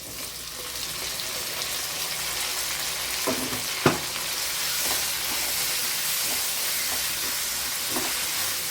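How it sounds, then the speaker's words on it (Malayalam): Tomatoes dropped into a frying potato kurma, a steady close sizzle and hiss with a few sharp spoon scrapes and clacks against the pan as it is stirred. "ഇതിനകത്തോട്ട് നമ്മൾ തക്കാളി ചേർത്ത് കൊടുക്കാം"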